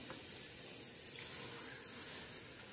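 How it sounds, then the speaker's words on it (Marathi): Chicken sizzles in hot oil in a pressure cooker for a black-masala chicken curry, giving a continuous hiss with a few small spits and pops and no voices. "आता चिकनचा तडका देणार आहोत तेलाला"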